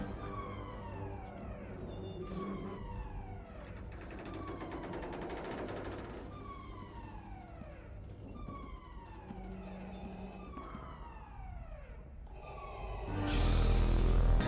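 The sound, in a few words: siren sound effect from Star Wars film scene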